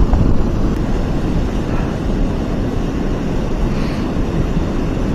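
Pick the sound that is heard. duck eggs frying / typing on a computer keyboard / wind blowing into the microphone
wind blowing into the microphone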